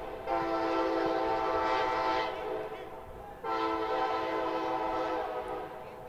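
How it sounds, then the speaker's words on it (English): A train horn blares near a college campus during a men's soccer match, in two long, loud sustained blasts, the second following a brief dip, with steady rail rumble underneath. "probably hear the train whistle, train horn coming in nearby our campus here"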